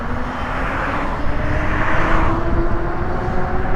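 A Snapcycle R1 electric bike's motor running on throttle only, a loud, steady whine with a clear tonal hum over wind and road rush, sustained and close throughout.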